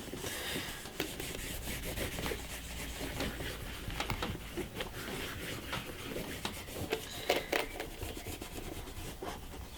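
Leather boot welt being worked over with shoe polish, a steady close scratchy rubbing that continues throughout with small uneven strokes and brief louder scuffs.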